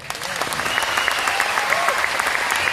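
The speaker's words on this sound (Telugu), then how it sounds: "ఒప్పుకుంటే క్లాప్స్ కొట్టండి" Applause from a large audience of around two thousand at a direct selling and network marketing talk, a dense steady wash of clapping close and loud throughout.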